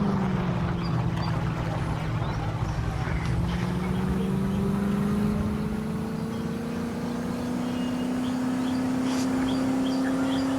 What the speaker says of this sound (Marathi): बघू शकता गाडी कशी पळती कशी नाही तर.